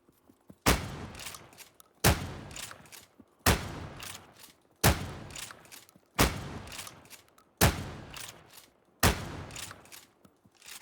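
Gunfire blasts at zombies in a zombie-farming video game: seven loud, evenly spaced shots roughly every second and a half, each with a short ringing tail, and no talking.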